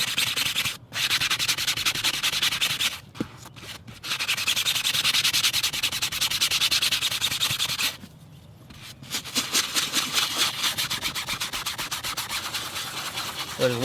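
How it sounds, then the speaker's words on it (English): A bristle brush scrubs Turtle Wax upholstery cleaner into car seat fabric with rapid, rasping strokes, loud and close, broken by a few short pauses. "I'm going to use my bristle brush here and work it in like this."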